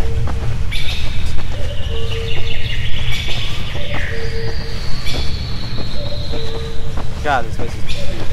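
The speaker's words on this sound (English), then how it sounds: "Shut up, birds. I hear you chirping." Birds in a forest chirp with quick, thin, high calls scattered through the scene, layered over a steady low rumbling background and occasional voice sounds.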